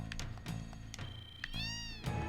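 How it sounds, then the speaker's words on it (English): Several cats meowing in a Final Fantasy VII area near the Wutai Pagoda, a string of clear, close meows repeating over the game's background, no talk. "Oh, look at all these cats!"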